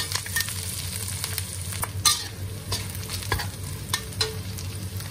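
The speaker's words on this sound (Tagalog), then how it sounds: "Gisa lang natin hanggang mag-brown ang ating sibuyas, bawang at suya." Onion, garlic and ginger sauté in a pan with a steady close sizzle. A utensil stirs and scrapes against the pan in scattered clicks, and no one speaks.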